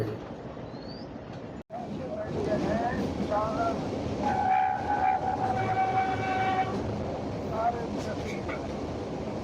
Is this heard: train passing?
yes